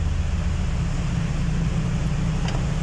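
A Nissan Patrol engine idles after being rewired with an American engine and ECU, a steady, close, low rumble that stays even throughout with no talk.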